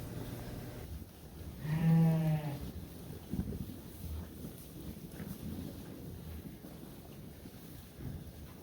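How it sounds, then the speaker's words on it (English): A ewe in a lambing barn lets out one clear bleat near the start, then falls quiet against soft rustling and faint background noise. "that ewe right there is not coming up for hay"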